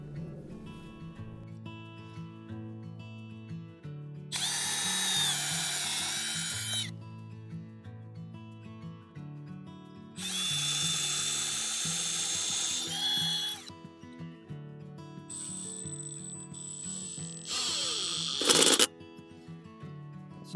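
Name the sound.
power drill pre-drilling screw holes in wooden mailbox post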